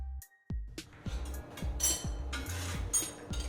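Kitchen prep sounds of a pizza being made with Baccio cheese: a series of dull thuds and clinks of utensils on a hard surface, steady and close.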